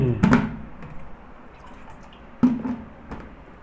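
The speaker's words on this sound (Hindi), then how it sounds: "थोड़ा पानी पी लेते हैं साथियों।" Someone drinks water in a couple of separate gulps, each a short wet swallowing sound, close and fairly quiet, with faint background between them and no talk.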